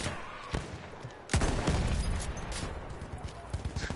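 Gunfire in a shooter video game during a long-range firefight. A few sharp shots crack out, including one loud close shot, followed by a dense rumbling ambience with smaller pops.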